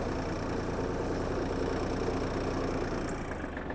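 A Kubota GL-25 mini tractor engine runs steadily at low revs in first gear, a constant chugging drone with no voices.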